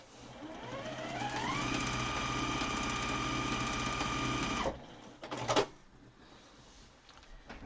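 A sewing machine stitching down a piece on a fabric face mask, its motor whirring up to a steady rapid drone for several seconds before stopping, followed by a brief mechanical clatter, close and alone.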